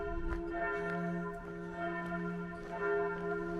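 Church bells ringing in an old walled town in Montenegro, sustained overlapping tones sounding steadily at moderate distance with faint street ambience and no talking.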